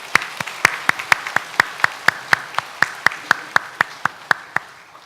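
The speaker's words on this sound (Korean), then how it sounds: "우리 하나님 아버지께 감사와 영광의 박수를 올려 드리기를 원합니다" A church congregation at Sunday worship claps in unison, about twenty sharp, evenly spaced beats at a steady rhythm, moderately loud and with no voices over it.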